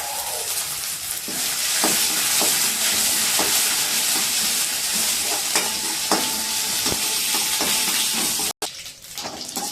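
Loud, close sizzling of spices tempering in hot oil for tamarind rice, continuous hiss with repeated scraping clinks of a spoon stirring, briefly cutting out near the end.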